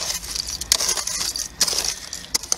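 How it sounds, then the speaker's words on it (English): Scraping and crunching of rusted old cans being dug through in a bottle-dig pit about 3.5 feet deep in North Carolina, with a run of close, sharp metallic crunches and clinks at irregular intervals. "we're down into some crunchy cans right now"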